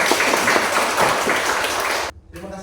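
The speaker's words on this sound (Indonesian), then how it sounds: "Mari kita berikan tepuk tangan untuk" Classroom applause from a group of students and teachers, a broad dense clatter of clapping that fills the room and cuts off abruptly near the end.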